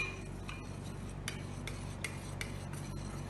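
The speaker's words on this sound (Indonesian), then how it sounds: "Lalu kita aduk." A homemade hand sanitizer of 95% alcohol and aloe gel is stirred in a container, making soft, regular scraping strokes about every half second over a low hum, with no talk.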